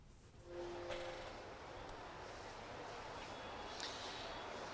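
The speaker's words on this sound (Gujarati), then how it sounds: "અત્યારે આપણે વડોદરાના રેલવે સ્ટેશન ખાતે છે" Steady rumble of a train and platform ambience at Vadodara railway station in Gujarat, a continuous broadband wash with a brief tonal horn-like note near the start and faint higher clanks, with no talking.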